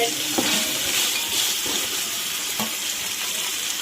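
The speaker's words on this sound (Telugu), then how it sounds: "ఇలా కలుపుకొని కొంచెంసేపు వేగనిచ్చి మూత పెట్టుకొని కొంచెం వేగనిద్దాం" Onions and green chillies sizzle loudly in a hot pan as they are stirred, a close, constant frying hiss with a few soft scrapes of the spatula.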